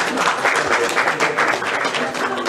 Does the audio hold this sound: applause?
yes